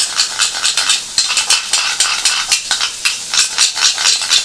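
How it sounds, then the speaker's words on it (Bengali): Spice masala sautéed in a pan for potol dorma, with a spoon scraping and stirring in quick, rhythmic strokes over a steady sizzle, loud and close. "এখানে আমি কিন্তু ভালো করে মশলাটা কষছি"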